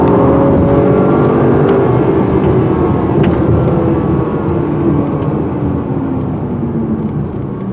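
A 2019 Acura RDX AWD SUV in Sport Plus mode accelerates hard, its engine note rising in a steady loud drone with tire and road roar, sustained and close throughout.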